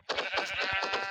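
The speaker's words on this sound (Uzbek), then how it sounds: "Ana echki hammasidan ham yomon." A goat in a Minecraft horror mod lets out a continuous wavering bleat, loud and close, lasting about a second with no talk over it.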